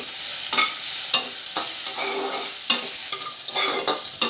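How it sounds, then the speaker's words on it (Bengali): Onions salted in a pan fry with a steady sizzle while a spoon stirs them, scraping in regular strokes roughly every half second, close and clear with nobody talking. "পেঁয়াজটা ভাজা হয়ে এসছে"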